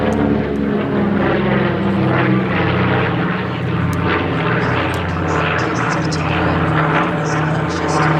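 A Flying Bulls B-25J bomber flies over the Midlands Air Festival at Ragley Hall, its piston engines and propellers producing a loud, steady, throbbing drone that holds for the whole stretch, with a voice faintly beneath it.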